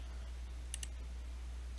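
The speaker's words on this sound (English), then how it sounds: "click that button, and then click the plus sign" A computer mouse gives two quick, light clicks close by, set against a steady low hum, with no voices.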